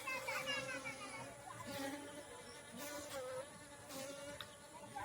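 Bees swarming around a honeycomb on a tree in a farm field, a close continuous buzzing drone with someone speaking over it.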